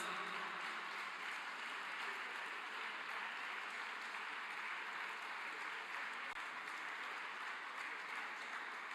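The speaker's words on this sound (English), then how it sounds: "Give them a big round of applause." Faint, steady applause from the audience at a chemistry research program valedictory function, an even wash of clapping that holds throughout without a break.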